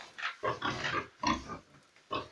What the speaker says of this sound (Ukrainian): Ось такі свинки.